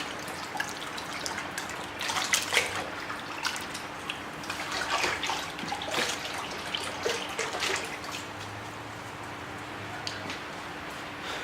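Optimum No Rinse car wash solution is swished and mixed into a bucket of water, giving irregular sloshing and trickling splashes at close range with no talking.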